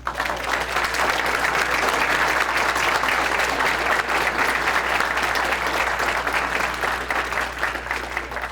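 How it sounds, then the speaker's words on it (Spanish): An audience at a mathematics conference applauds, a dense and steady wash of clapping that holds evenly throughout without pause. "Un aplauso."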